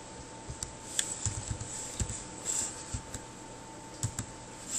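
Typing a command on a computer keyboard, with quick, close, distinct key clicks in an irregular rhythm over a faint steady hum, no talking.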